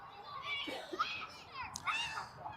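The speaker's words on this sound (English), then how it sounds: "If you hear children screaming in the background, it's because I've got about 25 toddlers who maybe age 7, maybe age 8, nearby playing" Toddlers screaming and playing at a nearby playground beside a baseball game, a mix of high children's shouts and chatter, fairly faint and distant, rising and falling irregularly.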